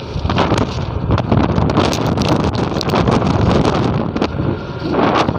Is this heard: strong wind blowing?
yes